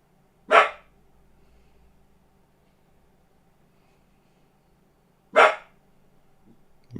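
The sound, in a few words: dog barking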